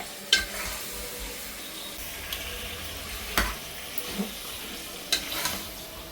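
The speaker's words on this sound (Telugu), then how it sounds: "మటన్ వేసుకోవాలి. నెక్స్ట్ కలుపుతూ ఉండాలి" Mutton frying in oil and being stirred: a soft, steady sizzle with scattered clicks and scrapes of the spoon against the pan, heard alone.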